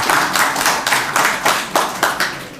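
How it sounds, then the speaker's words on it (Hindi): Audience clapping at a spiritual discourse, a loud, close burst with distinct rhythmic waves of hand claps repeating about every half second, no voices over it. "ये ताली बज गई।"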